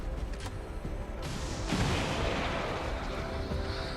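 A rocket fired in the XCOM 2 video game: a sharp launch burst followed by a loud rolling boom and crackling debris that rumbles on and slowly fades.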